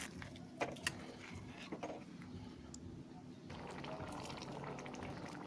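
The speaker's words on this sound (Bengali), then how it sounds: "এটাও দিয়ে দিলাম গরম জল" Hot water is poured into a potato curry after bay leaves and dried red chillies were fried in oil, a quiet liquid rush and bubbling following a few soft clinks, with no talk over it.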